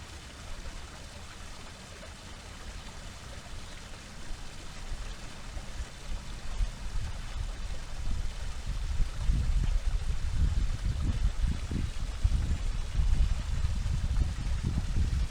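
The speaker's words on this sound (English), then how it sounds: "Let's go back up and we'll listen to this waterfall some more." A small waterfall spills into a shallow lily pad pond about two or three feet deep, a steady, close rushing and splashing that grows fuller and heavier in its low rumble as it goes on.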